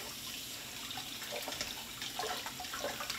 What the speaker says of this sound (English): I'm gonna rinse it off in some water.